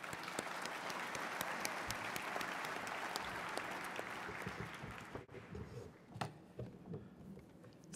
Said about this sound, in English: a rousing hand of applause